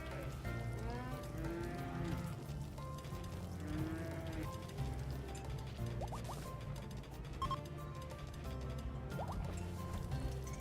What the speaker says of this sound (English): Never gonna be able to stop hearing the mooing.